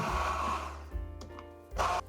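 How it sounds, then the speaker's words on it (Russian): A kitchen blender purees canned peeled tomatoes with oregano into pizza sauce, giving close, loud motor whirring in short bursts that stop and restart with brief pauses between. "Хорошо измельчаю блендером все."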